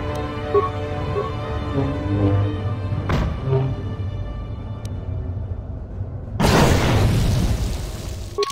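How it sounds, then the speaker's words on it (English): Grenade blast in the Star Wars KOTOR III video game, a sharp burst around midway followed later by a louder, sustained broadband explosion over game sounds and music. "I guess I could survive a grenade."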